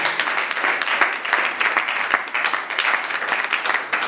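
A church congregation applauds at length, a dense, steady wash of many hands clapping together without pause across the whole stretch, fairly loud and close.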